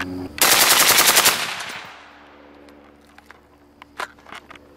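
A Steyr AUG rifle with its suppressor setting on fires one short full-auto burst of rapid, close, sharp reports, followed by a fading echo and faint ambient clicks.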